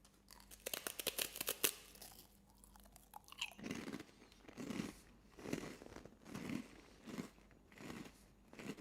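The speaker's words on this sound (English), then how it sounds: "That's a really crunchy rice cracker." A crisp crunch of biting into a hard rice cracker, followed by steady close-up chewing with rhythmic crunching; packaging crinkles at the start.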